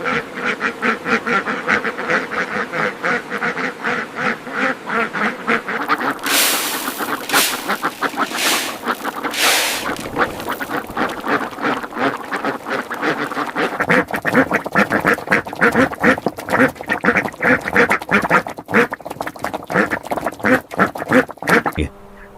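Large flock of farmed ducks in Indiana quacking densely and continuously nearby, overlapping calls with louder bursts of noisy flapping or splashing partway through.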